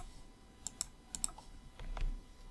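Quiet clicks of a computer keyboard: a few sharp keystrokes in quick pairs, then a softer tap or two, close by in a hushed room with no voices.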